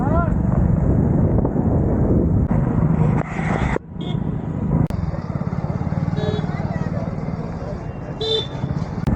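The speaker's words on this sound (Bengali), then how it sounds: "আমরা এখন বাইকে করে যাচ্ছি" Motorbike ride on the way to the Maha Kumbh at Prayagraj, with a continuous engine drone and heavy wind buffeting the microphone, a voice talking over it.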